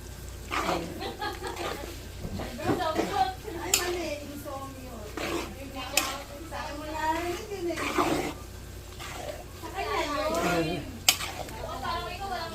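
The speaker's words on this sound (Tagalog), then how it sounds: "Haluin natin ng mabuti para pakasarap niya, no?" A spoon scrapes and clatters as beef stroganoff is stirred in a pan, with a light sizzle beneath. A person talks over the stirring almost throughout.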